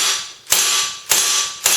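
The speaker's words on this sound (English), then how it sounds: "I'm going to eject the mag and dry fire it a few times to show you the sound." A BB pistol dry fired with the magazine out, its slide cycling in three sharp mechanical clacks about half a second apart, each followed by a rasping slide noise, loud and close with no talking.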